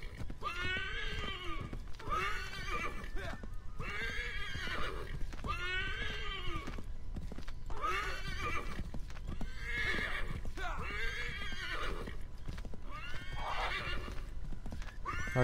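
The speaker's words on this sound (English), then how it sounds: "Oh, he is on a horse." Rhythmic clip-clop of a horse's hooves runs throughout, with repeated whinnies and neighs rising over it, fairly close and steady, in the video game Assassin's Creed 3.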